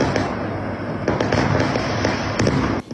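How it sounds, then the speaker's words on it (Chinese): Fireworks set off close to high-rise buildings in Taoyuan at night boom and crackle in a rapid, continuous barrage, loud and echoing between the buildings. "打开窗户，烟火不断，绽放高空。"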